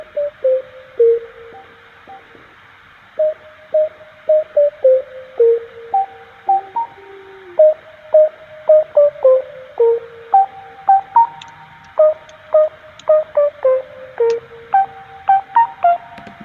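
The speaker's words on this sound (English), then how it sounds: "I'm running it through Decimort, which is something I love a lot, and is a really cool filtering thing" A pitched-up melodic sample passed through a Decimort bit-crushing filter plays as a rapid sequence of short, bright, thin tones with a lo-fi edge, repeating in choppy bursts over a faint background.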